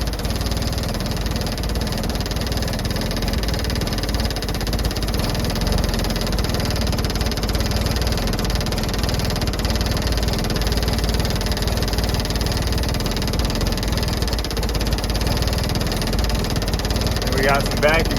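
Rough, steady idle from the engine of a 1961 International Travelall ambulance with a failing fuel pump and vacuum leaks, continuous and close, with people talking over the running engine.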